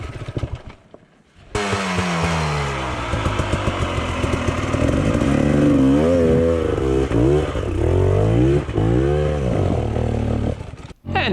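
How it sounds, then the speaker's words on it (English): An enduro motorcycle climbs a steep hill during a Romaniacs hill climb attempt, its engine revving hard and loud up close, rising and falling in pitch with throttle bursts and wheelspin, then cutting off abruptly. "And finally, Charlie's bike, which Brad is still bringing up for him"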